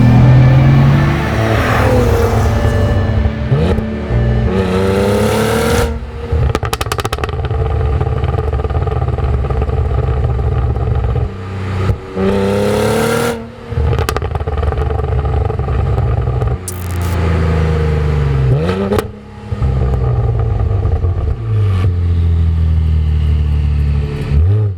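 A Cadillac CT4-V Blackwing accelerates hard through its gears, the engine note rising and dropping with each quick shift, loud and close with brief dips between gears.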